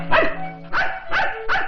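A dog barks four times in a steady, evenly spaced series, loud and close, with no talk over it.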